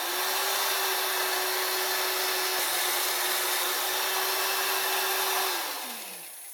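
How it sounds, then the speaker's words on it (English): A power drill bores through wood in a workshop, a loud steady whine and grinding that holds for several seconds before winding down. "we can just drill a hole through each of these exactly where they're marked"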